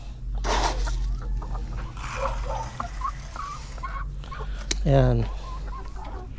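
Chickens cluck and squawk nearby as 5-month-old birds are fed layer feed, with a brief loud honking call near the end and a short spoken word over the flock.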